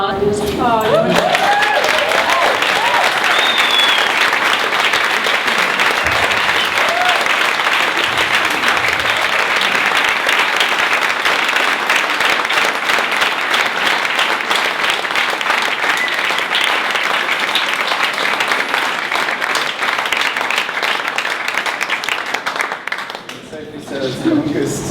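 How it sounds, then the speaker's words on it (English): A large audience bursts into loud, sustained applause after a talk on the Mars One mission at a Heavy Chef event in South Africa, steady clapping that holds for about twenty-five seconds before tapering off near the end. "It's the longest applause we've had at any show"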